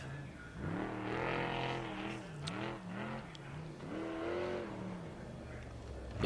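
An off-road race truck in desert racing at San Felipe roars past with rising and falling engine revs, loud and sustained as it drives by.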